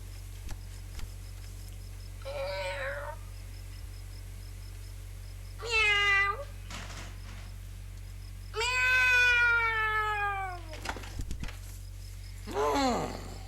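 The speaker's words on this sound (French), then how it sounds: "L'Angleterre, quel pays d'insomnie avec ses insupportables chats." Several cats meowing in an English night setting, four separate drawn-out meows spaced a few seconds apart, fairly clear and close over a quiet low hum.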